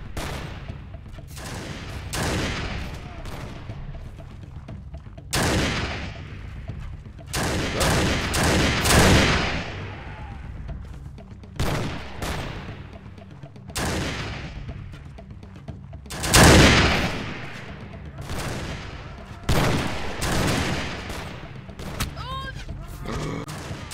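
Musket and gunfire volleys in the Mount and Blade Gekokujo mod battle, with scattered loud booming shots and rolling crackle over a continuous din, while someone talks throughout.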